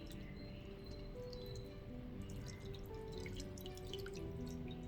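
Tap water running steadily into a sink while aloe vera soap is rinsed off hands, a close, continuous splashing with small drips and squishes, no talking.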